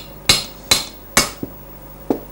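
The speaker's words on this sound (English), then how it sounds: "we will now be knocking on the end of the punch with the hammer" A hammer striking the end of a metal punch while driving a rotary valve drive shaft out of a heated Rotax engine crankcase, heard as three sharp loud knocks then two softer taps, close up with no talking.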